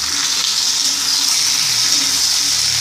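Onions and brinjal sauté in hot oil in a pan for a Tamil mixed-vegetable puli kuzhambu, giving a steady, close, even sizzle that runs without a break and without voices.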